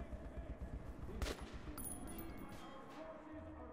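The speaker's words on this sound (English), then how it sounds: "Oh, stop with that auto fire" Automatic gunfire in the video game Metro 2033, with a dense burst of shots around the middle over a steady low rumble of game ambience, fairly quiet overall.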